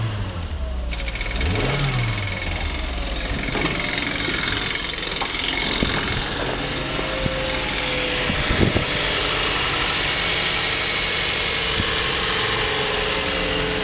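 A Toyota Auris with a 1ZR-FE engine and robotised automatic gearbox idles steadily after a brief rise in revs at the start, a close, even engine hum with an occasional light knock.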